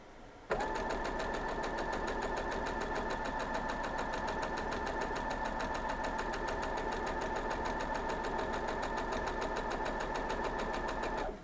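A sewing machine runs continuously for about eleven seconds stitching quilt block pieces, a close, steady, fast mechanical whir with rapid regular ticking that starts abruptly and stops at the end.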